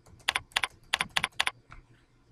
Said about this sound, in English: Type the next answer.